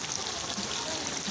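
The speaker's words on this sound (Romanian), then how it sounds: "nu mai plouă așa de tare, dar tot plouă" Steady rain falling outdoors near water, a soft continuous patter with a voice speaking faintly over it.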